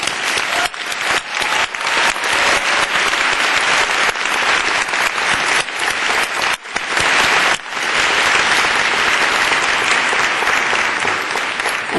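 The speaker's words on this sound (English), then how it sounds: "and you deserve our applause." An audience at a 2011 graduate school commencement ceremony breaks into sustained applause, a dense, loud wash of many hands clapping that fills the hall for around twelve seconds.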